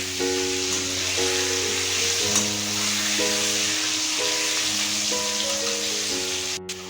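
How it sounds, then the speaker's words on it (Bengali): Steady crackling sizzle of potatoes frying in hot oil, continuous and close, with a faint tonal hum running underneath. "এবার আলুটাকে আমরা হালকা করে ভেজে তুলে নেব"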